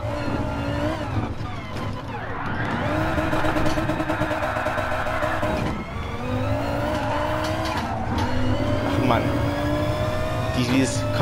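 Race car engine at full throttle in GT Sport, a loud sustained howl rising and falling through gear shifts and corners, with a voice speaking over it at times.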